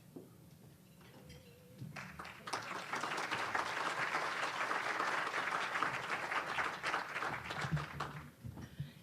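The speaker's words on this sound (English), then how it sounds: "That is pre-applause for Nelson." Audience applause at a club meeting award presentation, rising after a soft start into steady sustained clapping from a room of people, then tapering off near the end.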